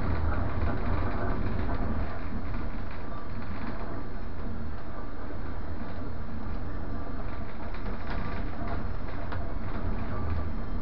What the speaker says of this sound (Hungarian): Most éppen utazok a vonaton